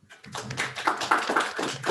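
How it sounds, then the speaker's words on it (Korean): Brief, light clapping from a small seminar audience after a research paper presentation, a handful of hands patting unevenly for about two seconds at fairly low level. "박수 한번"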